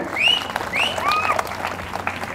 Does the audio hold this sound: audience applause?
yes